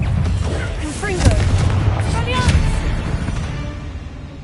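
A blasting spell explodes in a Harry Potter-style game with a deep booming burst, followed by a second thudding blast about a second later, with whooshing magical swirls over a steady low rumble.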